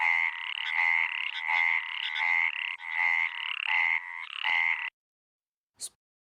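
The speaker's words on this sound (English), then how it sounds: "Indian cricket frog. I think this call was also recently shared in the WhatsApp group." An Indian cricket frog calls close by in a steady run of rapid, buzzy pulsed croaks for about five seconds, then stops, followed by a brief faint click.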